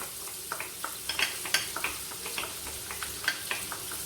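Onions sizzle in melted butter in a pan, a steady crackle broken by repeated scraping stirs and small spattering pops, close and fairly loud with no talk.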